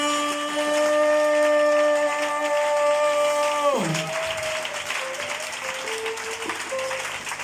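A church congregation applauds loudly and steadily while sustained organ or keyboard chords ring underneath, the music sliding down and changing partway through as the clapping continues.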